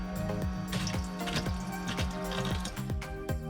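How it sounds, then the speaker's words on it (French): Water runs from the small tap inside a converted Renault Trafic camper van, a steady splashing flow with dripping, plopping accents, close and fairly loud with no voices. "Pour la partie eau, j'ai le robinet"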